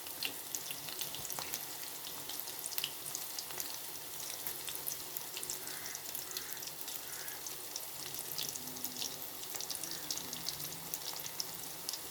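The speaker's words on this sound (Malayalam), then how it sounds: "മത്തങ്ങ കഷ്ണങ്ങളും ചുവന്നുള്ളിയും ഞാൻ ഇട്ട് കൊടുത്തിട്ടുണ്ട്. ഇതൊന്ന് വഴറ്റിയെടുക്കണം." Pumpkin pieces and shallots sauté in a pan with a steady, soft sizzle throughout, joined by faint stirring scrapes and a watery hiss, with no voices.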